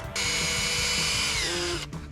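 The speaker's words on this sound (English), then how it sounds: "I'm gonna be the one to drill the screws in." A power drill driving screws into wood outdoors, one continuous high whirring run of about two seconds, close and loud, cutting off sharply with a brief trailing whir.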